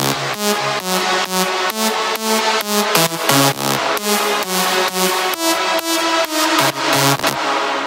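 A synthesizer lead plays a bright, rhythmic melody of short repeated notes over a steady beat, loud and with no voices.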